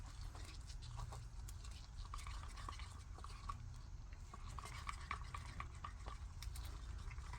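A stick stirs a colour mixture for a resin shaker coaster in a cup, producing faint, soft scraping and tapping clicks in an irregular rhythm, close but quiet.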